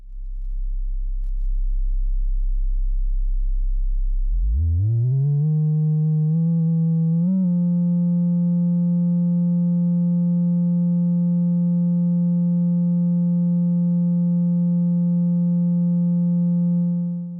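A modular synth slope generator outputs a triangle-like tone, starting as a low drone that slides upward in pitch and then holds a steady, harmonically rich note.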